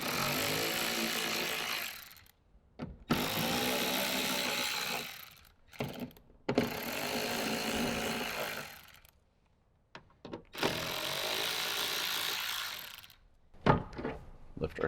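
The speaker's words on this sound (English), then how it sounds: "Use our 10mm to remove the 4 factory bolts." A 10mm socket driving out four factory speaker bolts in a Toyota Tacoma, heard as four loud, steady whirring bursts of a few seconds each, separated by short quiet gaps and light clunks.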